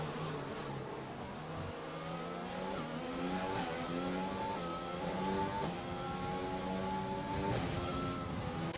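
Alfa Romeo racing cars' engines rev and accelerate at the Vietnam GP, a steady high-pitched whine climbing through gears with rising and falling tones, continuous and fairly close throughout.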